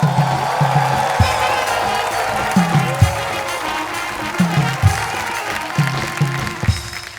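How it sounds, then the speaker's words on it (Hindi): A studio audience at a comedy show claps and cheers continuously to welcome a comic on stage, loud sustained applause over rhythmic thumping beats of entrance music. "जोरदार तालियों से स्वागत करो ऋषभ तिवारी फ्रॉम बिहार"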